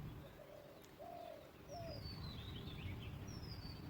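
Pigeons coo softly in a few low, rounded calls, with faint chirps from other birds and a steady outdoor hum in the background.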